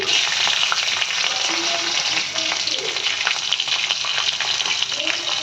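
Whole cumin seeds, torn bay leaf, six garlic cloves and green chili frying in hot oil, a loud dense sizzle with bubbling crackle and faint stirring scrapes, steady from start to finish.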